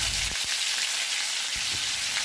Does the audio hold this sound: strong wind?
no